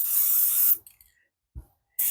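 A light coat of spray paint hisses onto plastic PVC in a single short burst, then after a quiet pause there is a small thud and the spray starts again.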